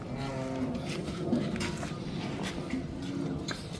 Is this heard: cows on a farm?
yes